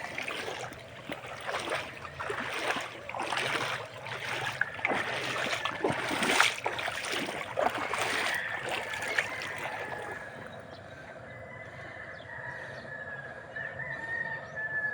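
Floodwater rushes steadily with broadband turbulent noise, loud and close for the first ten seconds, then easing into a softer steady wash.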